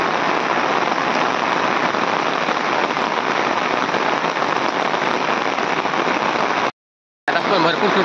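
Heavy rain falls in rural Konkan, a loud, even roar of drops drumming on surfaces that fills the clip, interrupted by a short silent cut near the end before resuming.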